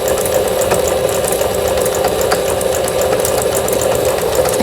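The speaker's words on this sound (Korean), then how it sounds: "바늘을 꼽은 상태에서 옷감이 뒤로 나가는가를 확인하기 위해서 박음질을 해보는 영상입니다." A Singer One Plus sewing machine backstitches fabric, running with a loud, continuous mechanical whir and rapid rhythmic needle clatter, close up and without any voices.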